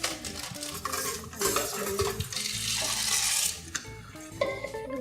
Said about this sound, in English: You can stir that a little bit.